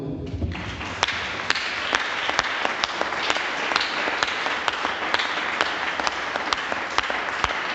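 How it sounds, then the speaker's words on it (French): A church audience applauds Jesus Christ in a continuous roar of clapping, with a few sharp, louder claps popping out near the front at irregular moments. "Applaudissons-le."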